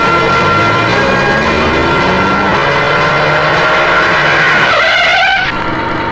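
A car pulls away hard with a loud, drawn-out tyre squeal and skid, the engine roaring close by for several seconds before the screech breaks off and fades at the end.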